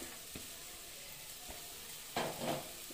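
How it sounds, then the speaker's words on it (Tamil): Potatoes sautéing in a pan for a Tamil lunch-box potato varuval, a soft, low sizzle with a few faint scrapes, then a louder burst of frying and stirring near the end. "இப்போ வச்சுருக்கிற உருளைக்கிழங்க ஆட் பண்ணிக்கலாம்."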